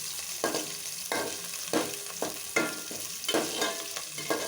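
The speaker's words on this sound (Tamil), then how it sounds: "அந்த அளவுக்கு சிம்மில் வச்சு நல்லா வதக்கி விட்டுக்கோங்க" Onions being sautéed and stirred in a pan for tomato kulambu, with a steady sizzle broken by repeated scraping strokes of the spoon roughly every half second, close and fairly quiet, without any voices.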